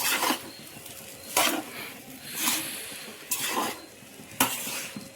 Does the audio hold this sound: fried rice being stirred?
yes